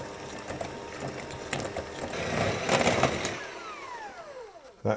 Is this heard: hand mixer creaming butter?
yes